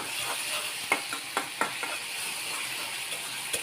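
Garlic paste is stirred and sautéed in a pan, a soft continuous sizzle with a few quick scraping strokes scattered through it, fairly quiet and close.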